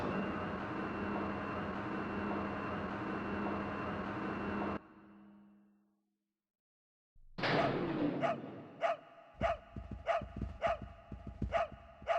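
In the video game Echo Night, a pup barks in a run of sharp, rhythmic, fairly loud yaps. They follow a dense droning ambience that cuts off into a brief silence.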